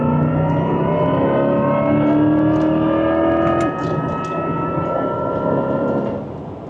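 A Corvette E-Ray engine drones loudly from inside the cabin, its pitch climbing steadily as it accelerates hard, then dropping briefly at a gear change before rising again.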